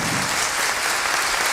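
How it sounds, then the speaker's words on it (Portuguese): An audience applauds at a Sebrae business forum, a dense, even roar of many hands clapping that holds steady from start to finish. "Vamos aplaudir."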